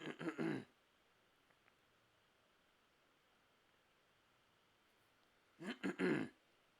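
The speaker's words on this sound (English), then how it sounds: "I'm gonna cough again. Wait, throat tickles." Two short bursts of throat clearing, close and harsh, one at the start and another near the end, separated by several seconds of quiet room hiss.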